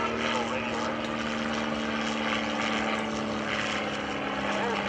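A vintage primary trainer propeller airplane flies overhead at a World War II event, its steady droning engine hum running throughout, loud and continuous, with some crowd or announcer voices faintly mixed in.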